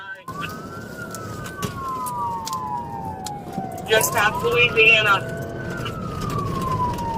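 A police car siren wails and slides up and down in pitch during a pursuit while someone speaks briefly over the radio, with road noise underneath.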